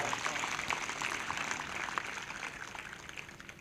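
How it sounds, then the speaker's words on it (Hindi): A church congregation at a Hindi morning prayer service claps in praise, a steady dense patter of many hands continuing at moderate volume throughout. "फिर से एक जोरदार ताली बजाएं प्रभु की महिमा के लिए"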